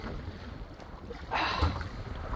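Wind gusting over a boat's microphone while paddling a kayak against the current on rough, wavy lake water, a continuous rushing roar with a stronger surge midway and no talking.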